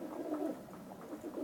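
Pet pigeons in a loft coo in soft, rolling low calls, repeated a few times close by with no voices.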